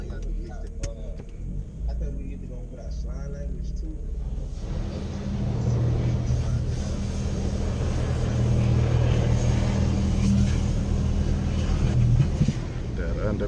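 High-pressure jets at a car wash spray an RX8, a steady loud hiss and rumble of water building after a quieter start with low muttered talk inside the car.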